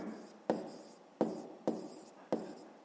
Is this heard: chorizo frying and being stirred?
no